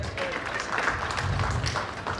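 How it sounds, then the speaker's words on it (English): Audience applause at a community fundraiser event, a steady wash of clapping held at even loudness throughout, with some crowd voices mixed in. "Please give them a round of applause."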